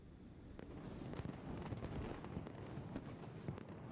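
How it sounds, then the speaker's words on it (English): Fireworks burst in a Genshin Impact animated short, a run of crackling pops and sharp bangs with a couple of rising whistles over a dense rumbling bed. "fireworks have started."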